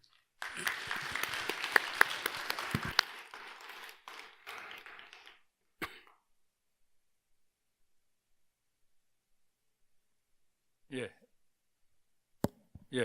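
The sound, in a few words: audience applause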